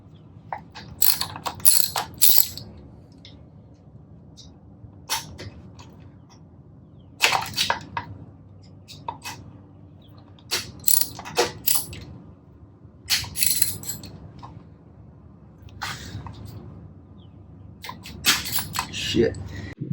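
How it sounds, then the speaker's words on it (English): Ratchet fitted with an 8mm socket loosening two screws on a 2018 Honda CRF 250L Rally motorcycle, sharp clicking bursts in repeated close runs separated by short pauses, loud against a quiet background. "I've got the 8mm socket. I'm gonna go ahead and get this set up to take these two screws off."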